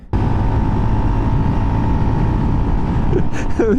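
A 2022 Honda Monkey motorcycle rides along with a steady, loud engine drone and buzzing exhaust, close up and continuous, with a brief chirp near the end.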